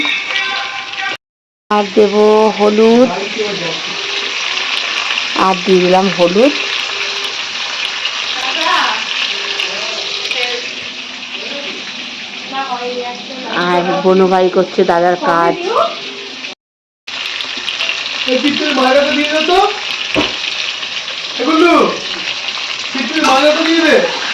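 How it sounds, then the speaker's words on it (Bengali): Salted, spiced potatoes fry in a pan with a steady close hiss and sizzle throughout, while a voice talks intermittently over it and a short silent cut interrupts partway. "আলুটা ভাজা হোক"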